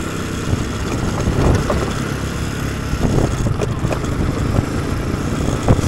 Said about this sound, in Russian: Теперь это Honda NX 200.